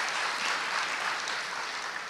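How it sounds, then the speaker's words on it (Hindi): An audience claps together at a spiritual talk, a dense and steady wash of applause from many hands that holds at an even level without pause. "हाँ जोर से ताली बजा सकते हैं।"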